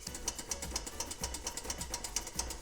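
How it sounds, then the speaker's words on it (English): A whisk beats egg into a thickening milk mixture for sütlü börek on the stove, a fast, even rhythm of close metallic strokes with no voices. "this is where I'm going to whisk in the egg really, really quickly"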